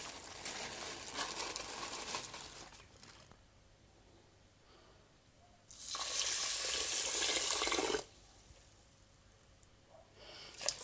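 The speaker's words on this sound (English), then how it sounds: "I'm gonna wash my rice." Tap water runs into a sink as rice is rinsed in a home kitchen, with a steady stream near 6–8 seconds and quieter trickling and handling sounds around it.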